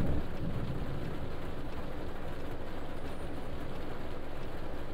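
Heavy rain pours down in Fernbus Simulator over a low, rolling rumble that could be thunder or the coach engine, an unbroken loud wash with no voices.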